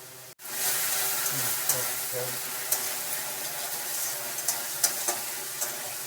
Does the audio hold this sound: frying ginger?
yes